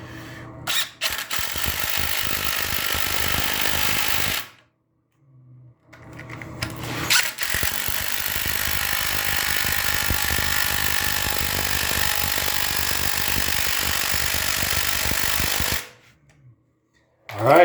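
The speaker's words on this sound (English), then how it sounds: "we're going to screw these down as well using our hammer drill." A loud hammer drill driving screws into a floor whirs in long sustained bursts, cutting out briefly between runs, close and harsh, with short pauses of near silence.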